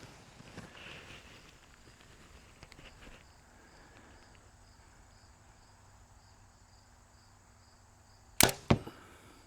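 Arrow from a Darton Sequel 33 compound bow striking the target, two sharp loud impacts close together near the end, after a long quiet stretch of outdoor crickets and light wind.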